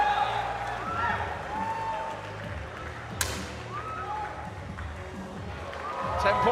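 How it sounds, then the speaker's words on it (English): An Indian crowd at a women's 10m air rifle final in New Delhi applauds and cheers after a 10.6 shot, a steady wash of clapping and voices with a sharp crack near the middle and swelling noise at the end. "the Indian crowd absolutely love that"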